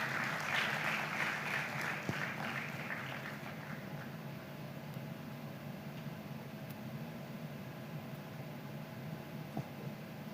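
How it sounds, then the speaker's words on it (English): Summit audience in a conference hall giving the moderator a round of applause, a moderate burst of clapping in the first few seconds fading into a faint room hum and quiet background. "appreciate her with a hand clap"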